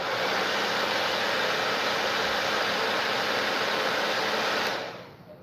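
Hair dryer running steadily to dry stencil paint on a basket, a loud continuous broadband whoosh that stays level for almost five seconds and then cuts off sharply, leaving near silence.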